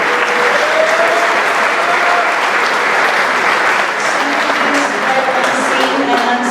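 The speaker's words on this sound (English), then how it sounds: "If we could just give a huge round of applause for Dr." Audience applause for a team doctor, Dr. Robichaux, at an event honoring team staff, a dense and steady round of clapping that holds loud and close for the whole stretch, with faint voices mixed beneath.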